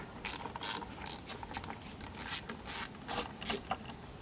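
A ratchet wrench loosens headlight bolts on a Lexus RC350, giving rapid bursts of close, sharp clicking. The bursts come in about ten short pulls with brief pauses between them.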